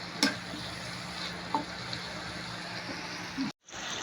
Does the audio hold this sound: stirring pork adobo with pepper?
yes